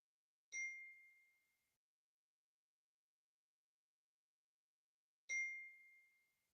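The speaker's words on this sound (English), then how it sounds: "I'm getting a lot of text messages if you don't hear that dinging, or if you do hear that dinging, that's what it is." Two bright, clean notification dings from a phone receiving text messages, a single tone each, spaced about five seconds apart and ringing out briefly in an otherwise silent room.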